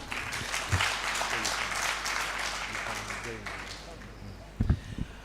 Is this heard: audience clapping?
yes